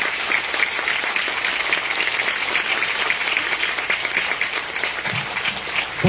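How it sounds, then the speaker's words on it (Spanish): A crowd at a government investment announcement in San Juan del Río applauds the governor's team, loud dense clapping sustained evenly for about six seconds. "Quiero también que le brindemos un fuerte aplauso al equipo que acompaña a nuestro gobernador"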